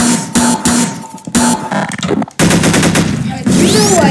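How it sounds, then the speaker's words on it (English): Fireworks and dynamite blasts in the sandbox video game Garry's Mod, heard as loud rapid crackling bursts and booms that come in quick overlapping volleys, close and dense throughout. "You guys get to see white fireworks"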